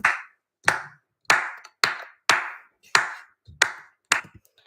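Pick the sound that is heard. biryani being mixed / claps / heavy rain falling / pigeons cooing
claps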